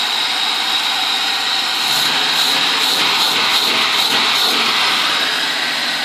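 An Audi 100 with a 2.3 L carburetor engine, still cold, runs at a steady idle, a continuous loud broadband drone with no talk over it.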